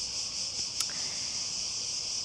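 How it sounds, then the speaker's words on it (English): Cicadas in Greece drone loudly and steadily throughout, a constant high-pitched buzzing with a brief faint click partway through and no talk. "do you hear the cicadas"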